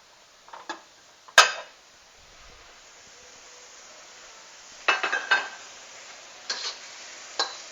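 Stir-fried Chinese broccoli tossed in a pan, scattered clattering scrapes and light sizzling rustles in a few short bursts separated by quieter stretches, close but fairly soft.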